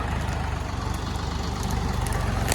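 A DTZ-354U tractor engine runs at a steady low idle, a continuous loud rumbling throb close by with no voices.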